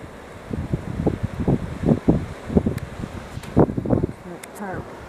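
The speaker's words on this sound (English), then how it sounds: "the wind is blowing" Wind gusts blow outdoors during a blizzard, a loud buffeting rush hitting the microphone in uneven bursts, with people talking over it.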